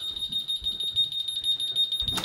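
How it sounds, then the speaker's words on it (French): A home alarm system sounds a loud, continuous high-pitched tone nearby, pulsing slightly, with low background rumbles and movement beneath it. "Je sais pas c'est quoi le code du système d'alarme, Alex."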